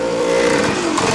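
A 1971 Husqvarna 360 Cross eight-speed desert racer motorcycle revs steadily and loudly up close, its two-stroke engine holding a strong droning tone that shifts slightly in pitch near the end.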